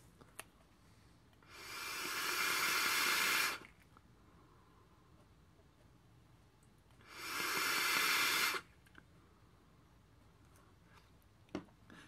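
Two long airy draws, each about two seconds, pulled through a Geekvape Griffin 25 Mini atomizer with a 316L fused coil build and the top airflow one click open, with a quiet pause between them and a few faint clicks.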